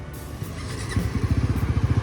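A Bajaj NS400 motorcycle being ridden on the road, its engine close and loud, building into a rapid, throbbing low pulse as the rider pulls away.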